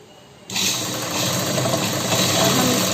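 A sewing machine starts up after a half-second lull and runs in a steady, loud, close mechanical whir while stitching salwar fabric, with no talk over it.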